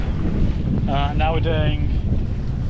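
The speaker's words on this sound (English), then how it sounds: "The wind is back again." Wind roars and buffets across the microphone aboard a sailboat at sea off the Spanish coast, a loud constant rush, with someone talking briefly over it partway through.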